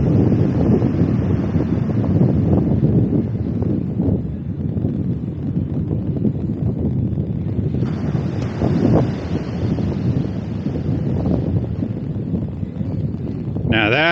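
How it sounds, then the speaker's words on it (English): Ocean waves wash against the shore under strong wind buffeting the microphone, a continuous loud roar with surging swells; a voice is faintly mixed in. "hearing the sounds of the ocean"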